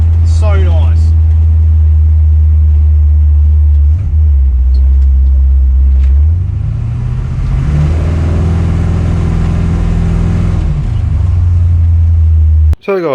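A Holden HQ car drives along with its engine rumbling loudly and close. The engine note drops, then climbs and settles again as the car changes gear.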